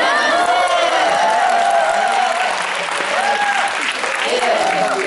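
Loud, steady applause from a large gathering at a Korean youth counseling volunteer event, with cheering and shouts rising over the clapping throughout.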